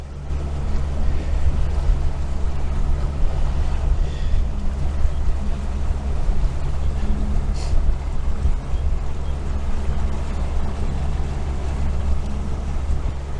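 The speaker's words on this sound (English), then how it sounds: "The wind has come up and it's making it more challenging, as it always is." Strong wind blowing across open water at Voyageurs National Park, a constant heavy low roar buffeting close to the microphone with no break, loud and steady throughout.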